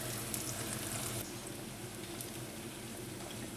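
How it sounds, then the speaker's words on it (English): Garlic naan dough laid face down into hot oil, a dense, steady, fairly quiet sizzle that stays continuous and dips slightly after the first second. "I peeled it off the counter and put it face down into the oil."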